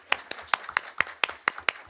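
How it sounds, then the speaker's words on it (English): Sharp, evenly spaced hand claps at a school board meeting, about four or five per second, close and crisp with no voices. "that was clapping for you"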